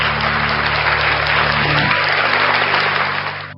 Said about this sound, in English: Round of applause for NCR.